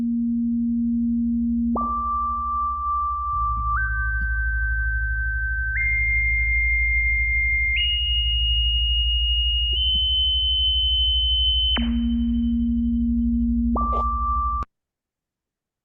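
A pure electronic healing tone steps upward through a sequence of sustained pitches, each held about two seconds, then drops back low, rises once more and cuts off abruptly; steady and clean with a low hum beneath.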